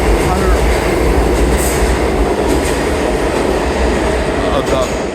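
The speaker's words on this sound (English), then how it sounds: "Lot of trains." A local 7 train runs through an NYC subway station, a loud steady rumble with rail clatter and brief high squeals throughout, no speech.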